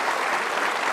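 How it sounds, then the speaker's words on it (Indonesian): Audience applause in an Indonesian television talk-show studio, a dense, steady wash of many hands clapping that fills the whole second without a break. "harus dikasih tepuk tangan itu"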